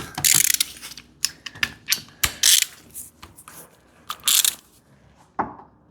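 A ratchet turns a 15mm socket on a rear axle bush bolt of an MK7 Ford Fiesta, giving loud, close bursts of rapid clicking in several separate spurts with short pauses between them.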